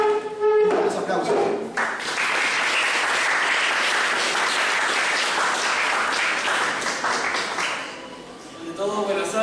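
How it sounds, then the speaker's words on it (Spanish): An audience at a university constitutional history lecture in Peru breaks into sustained applause for an arriving speaker, a dense wash of clapping that fades near the end, with a voice speaking before and after. "Un aplauso."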